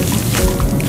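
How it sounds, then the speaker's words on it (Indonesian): Cooking oil poured into a pan for a cartoon barbecue, a continuous loud liquid splashing and glugging wash that fills the short moment without pause. "Minyak."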